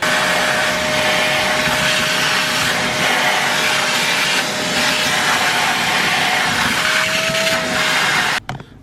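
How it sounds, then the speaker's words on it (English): A wet vacuum sucks water out of a narrowboat's bilge, a loud, steady, high whining roar that holds unbroken for about eight seconds before cutting off abruptly. "I've got this sucky hoover thing now, so I'm going to try and see if that works better."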